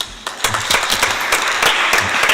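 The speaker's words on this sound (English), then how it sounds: "So one round of applause for Alexander's team, please." Audience applause at the opening ceremony of the Global Major Group and Stakeholder Forum 2017, a dense wash of many hands clapping that swells after a quieter start and stays steady and fairly loud throughout.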